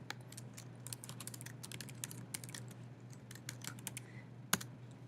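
Quick, irregular clicking of computer keyboard keys, fairly close and quiet, with short pauses between bursts and one sharper keystroke near the end.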